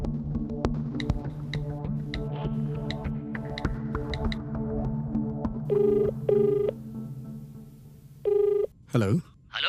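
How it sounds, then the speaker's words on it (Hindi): A telephone rings in repeated bursts of electronic tones after a stretch of low throbbing music, the rings loud and close with short gaps between them, followed by a brief sweeping sound. "अरे कितने लोग श्रावणी श्रावणी के लिए फोन करेंगे?"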